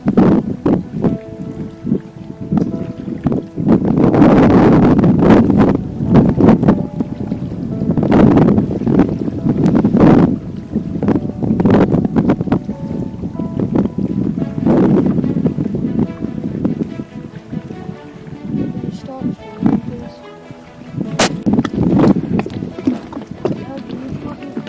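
Gusty wind buffets the microphone while paddling a canoe on Bowron Lake, with rushing surges rising and falling repeatedly over water and sounds of people talking mixed in.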